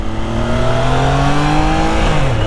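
A 2023 Triumph Trident 660 motorcycle roars loudly and steadily while being ridden, its engine tone holding high then dropping slightly near the end, with strong wind rush throughout.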